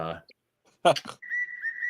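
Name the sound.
whistle in the background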